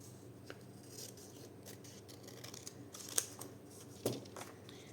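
Scissors cutting through a paper window envelope for a junk journal page, soft snipping and rustling, close and quiet, with a couple of sharper clicks near the end.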